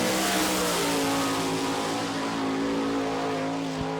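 Race car on a J&J chassis with a Kreiner racing engine at the Volusia dirt track in Barberville, Florida, roaring loud and steady at high revs with a strong harmonic whine and no voices.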